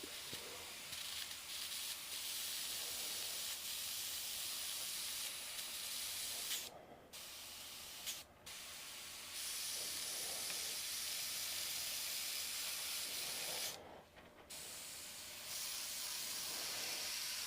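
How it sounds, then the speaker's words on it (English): A spray gun hisses in long, steady bursts spraying paint on a bucket truck, pausing briefly twice before resuming, close and fairly faint. "let's spray"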